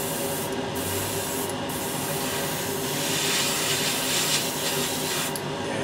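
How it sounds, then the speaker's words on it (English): A spray paint can hissing as it coats a Warhammer 40k Blood Angels model, a steady broadband hiss lasting several seconds with slight swells, no talking. "give it another spray."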